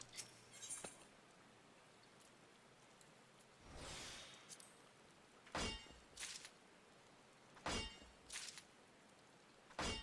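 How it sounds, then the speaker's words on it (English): Metal clangs ring out from mining in Final Fantasy XIV, sharp isolated strikes spaced irregularly, some in quick pairs, over a faint quiet background. "Screeching metal to fall asleep to."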